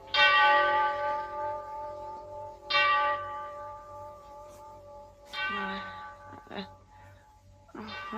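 A clock chimes in a dim, silent room, several resonant bell-like strokes with long ringing tails, spaced unevenly and moderately loud against a quiet low hum.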